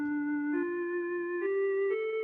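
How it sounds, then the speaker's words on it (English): A keyboard's recorder preset plays a soft, pure woodwind-like tone in a slow rising line of four sustained notes, clear and breathy, with no voices. "Now, a recorder is just like one of those instruments that we played, those plastic recorders"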